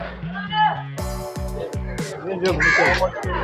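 A crow caws at a Mangalore fish market, giving about half a dozen loud, harsh, evenly spaced calls close by, with voices and market chatter underneath.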